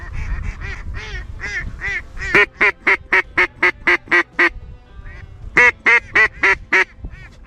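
Ducks quacking repeatedly at a duck-hunting opening, a run of loud, evenly spaced calls followed by a second burst of quacks after a brief pause, close by and prominent.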